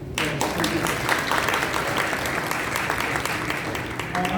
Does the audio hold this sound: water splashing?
no